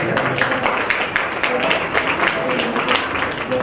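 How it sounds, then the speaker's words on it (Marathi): A hall audience at a Marathi community program breaks into dense, steady applause, a loud continuous wash of many hands clapping together at close range. "सगळ्यांनी टाळ्या वाजवून"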